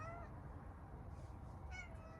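A cat meows indoors: two soft, drawn-out meows, one at the start and another shortly after, faint against a low steady background hum.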